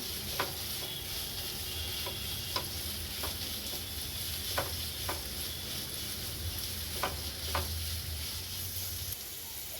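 Two sliced onions sauté in a pan for egg rice, a steady close sizzle of frying with a spoon clinking and scraping in a loose irregular rhythm throughout.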